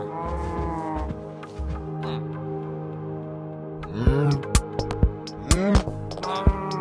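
Minecraft cows being fed in-game, with a few short moos and snorts between about 4 and 6.5 seconds over steady background music.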